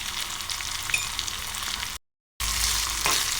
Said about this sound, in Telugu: జీడిపప్పులు కొంచెం వేగుతున్నాయి